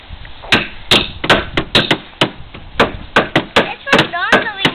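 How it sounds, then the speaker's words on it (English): A hammer drives nails in a series of sharp, loud, uneven strikes, roughly a dozen over a few seconds, with brief pauses between blows and some background voices. "Hey Phoebe, can you hammer?"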